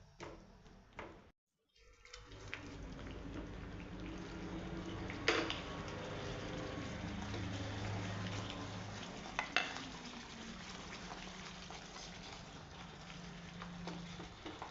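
Paneer pieces hit a pan of methi vegetable and sizzle in a steady frying hiss, with a brief gap, a few clinks of a utensil and stirring scrapes over a low continuous crackle.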